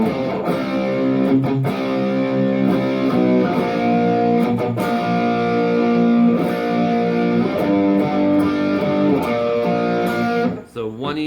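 Distorted electric guitar playing the chorus of a song, loud sustained chords strummed in a steady rhythm with brief chord changes, alone and close, cutting off with a short pick scrape at the end.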